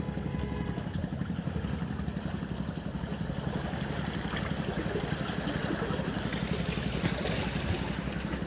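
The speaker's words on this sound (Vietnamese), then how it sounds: "Một chiếc ghe đã ra khơi." A boat's engine chugs steadily as the vessel heads out to sea off Duong Dong, Phu Quoc, a continuous mid-pitched motor rumble with faint water noise, no voices.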